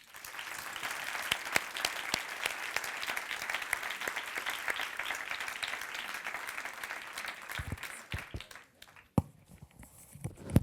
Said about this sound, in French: qu'on les applaudisse chaleureusement